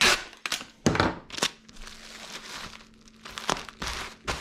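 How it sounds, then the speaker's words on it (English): Packing tape is pulled off the roll and pressed onto an eBay shipping package: several sharp ripping and crinkling bursts with thumps between them, close and fairly loud, in short irregular spurts. "I'm gonna pop a piece of tape on it."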